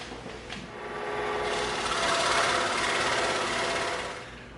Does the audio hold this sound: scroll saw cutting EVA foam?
yes